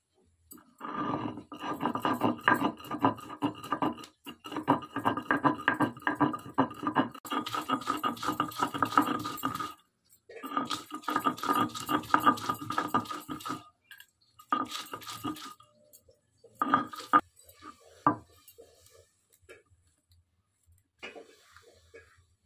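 Mustard, whole cumin, melon seeds, poppy seeds, a little sugar, green chillies and onion are ground together into a paste with rhythmic rasping strokes. The grinding comes in long bursts with short pauses, then in sparser scrapes toward the end.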